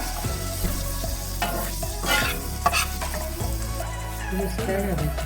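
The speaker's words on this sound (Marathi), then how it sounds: "लाल तिखट टाकूया। परतून घेऊ चांगला।" Egg masala with red chili powder sautéing in a pan, a continuous close sizzle broken by scraping stirs and a few spoon knocks, with a low steady hum underneath.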